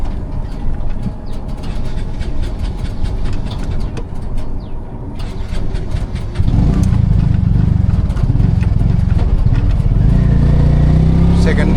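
A Piaggio Ape City auto-rickshaw engine runs in petrol mode, a loud continuous close-up drone that jumps louder and rougher about two thirds of the way through.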